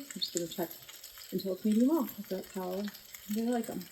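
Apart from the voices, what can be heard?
steak searing and sizzling in a pan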